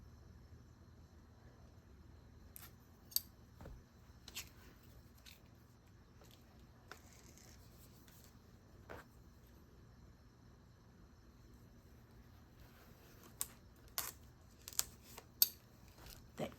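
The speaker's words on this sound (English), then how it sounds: "handy dandy scissors." Faint, scattered snips and crinkles as scissors work through the wrapping of a beauty product parcel, quiet and close, with long near-silent gaps between cuts.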